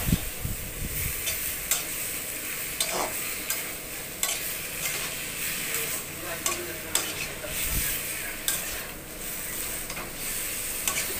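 Fried potatoes stirred and mixed in a sizzling pan: a continuous close-up hiss of frying with regular scraping strokes and light ticks of a spatula against the pan.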